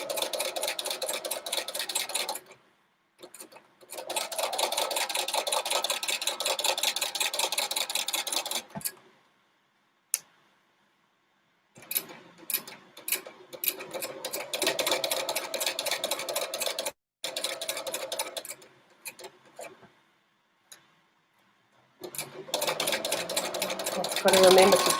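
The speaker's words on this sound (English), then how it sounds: "I'm going to set my machine with my needle in the needle down position, just so that when I stop stitching" A sewing machine stitches quilt pieces in rapid, steady bursts of mechanical whirring, stopping and restarting several times with short pauses in between, close and loud, while a person talks during some of the pauses.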